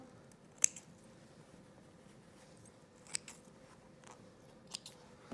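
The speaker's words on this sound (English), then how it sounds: "snip, pull out your pins, and cut off any extra threads that might be hanging around" Scissors snip loose threads during a pant pocket seam repair, giving three or four crisp, isolated clicks spaced a second or two apart against a quiet room.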